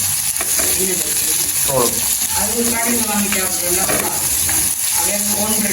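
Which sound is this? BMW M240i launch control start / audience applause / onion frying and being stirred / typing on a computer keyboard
onion frying and being stirred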